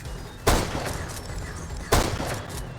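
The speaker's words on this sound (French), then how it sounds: "Je vais leur tirer au sniper de loin." Two sharp sniper rifle shots ring out in a video game, one near the start and one about a second and a half later, each with a short booming tail over steady background noise.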